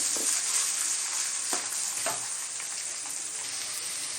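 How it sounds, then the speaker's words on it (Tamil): Ginger and garlic fry in hot oil for Tamil-style potato bonda, giving a steady close sizzle with a few soft stirring scrapes and no talk. "இஞ்சியும் பூண்டும் வந்து நமக்கு எண்ணெயிலே நல்லா வதங்கினா நல்லாயிருக்கும் அந்த வாசனை."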